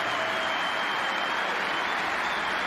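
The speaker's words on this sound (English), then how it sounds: "Wild applause from the neighbouring table." Wild applause rises from a neighbouring table's crowd at a snooker tournament in Germany, a dense, steady, somewhat distant clatter of many hands continuing without a break.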